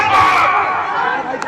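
A large crowd packed together at a political rally in India, giving a loud, steady roar of many voices and chatter close around.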